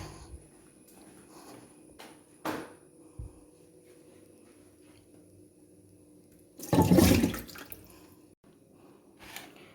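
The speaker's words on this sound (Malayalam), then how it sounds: "ഞാൻ ഈ മീനൊന്നും കൂടെ കഴുകി എടുത്തുകൊണ്ട് വരാം വിനാഗിരി വെള്ളത്തിലല്ലേ കിടക്കണേ" Running water splashes loudly for about a second and a half as fish soaking in vinegar water are washed, with faint drips and quiet kitchen handling before and after.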